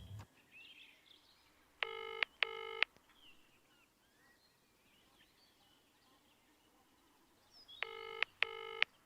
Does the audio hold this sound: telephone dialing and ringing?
yes